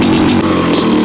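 A Honda CR500 motorcycle being kick-started, its engine churning loudly and steadily with a rough two-stroke clatter that runs through the whole moment, close and with no voices.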